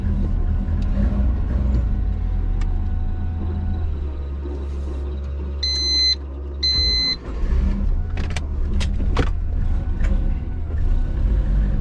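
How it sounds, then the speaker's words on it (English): An idling twin-turbo Subaru engine with an exhaust leak rumbles with a rough, uneven exhaust note, a few brief electronic beeps and clicks sounding partway through. "Definitely exhaust leak."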